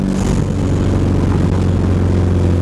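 A Nissan S13 with an SR20DET engine runs under hard throttle, a loud steady drone of engine noise that holds continuously without pause.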